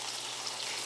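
Half a cup of water is poured into a cooking pan, making a brief, soft splashing hiss that lasts under a second.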